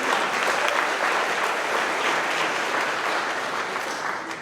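Steady, enthusiastic applause from a crowd, clapping continuously throughout.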